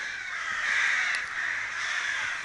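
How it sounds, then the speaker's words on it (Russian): Crows caw near a library on a town street in the Altai Republic, with harsh calls running close together in a steady, fairly loud stretch and no talk. "А тут вон вороны каркают."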